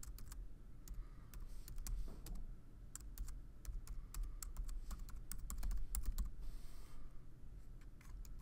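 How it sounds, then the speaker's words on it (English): Keys clatter steadily as someone types an entry into a computer keyboard, quick irregular clicks in bursts at close range over faint background hum. "we're going to type in custom tip percentage"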